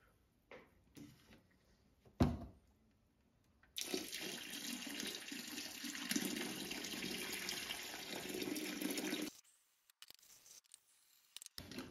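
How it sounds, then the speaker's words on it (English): Tap water pours into a bucket for homemade banana wine, a loud, steady rush lasting several seconds, with a few soft knocks and clicks before it and quiet after it stops. "I need to add enough water to fill it"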